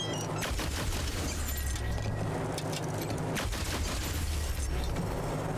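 Gunfire erupts in Wasteland 3 as a character opens fire, a dense burst of overlapping shots and impacts packed into a few seconds, loud and close with no voices over it.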